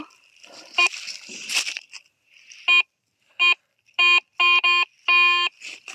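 A metal detector beeps over a find outdoors: after some rustling, a run of sharp electronic tones comes in short repeated bursts, ending in a longer sustained beep.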